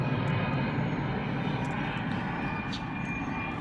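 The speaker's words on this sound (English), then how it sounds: "You might hear the sound of a jet going overhead here for just a minute" A jet aircraft passes overhead on a sunny morning, its steady, broad engine roar filling the whole stretch at a constant loudness with no voices.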